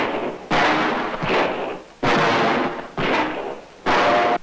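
Revolver gunshots in a German-dubbed trailer for the Western film Red River: four loud, sharp blasts with reverberant tails, spaced roughly a second apart, with no talking.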